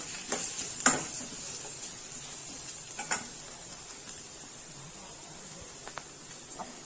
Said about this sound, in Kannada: ಇವಾಗ ಇದಕ್ಕೆ ಸ್ವಲ್ಪ ಕರಿಬೇವನ್ನ ಹಾಕ್ಕೊಳ್ತಾ ಇದ್ದೀನಿ ಹಸಿದು ಫ್ರೆಶ್ ಕರ್ಬೇವನ್ನು ಸೇರಿಸ್ಕೊಂಡಿದ್ದೀನಿ